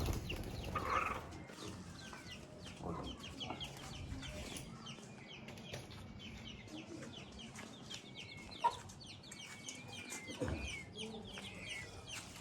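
Black partridges call repeatedly in short, chirping and clucking bursts, fairly faint and somewhat distant amid quiet outdoor background noise, with an occasional louder note.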